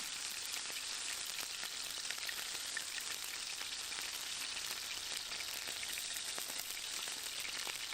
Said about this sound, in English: It's sizzling like oil, though.